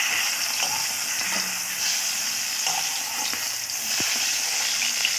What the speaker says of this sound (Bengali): একদম উল্টিয়ে পাল্টিয়ে লাল করে ভেজে নেব